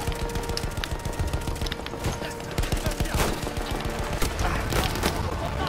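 Rapid bursts of gunfire in the World War I shooter Battlefield 1, clustered shots and sharp cracks crackling through a busy battlefield din, some near and loud, others more distant.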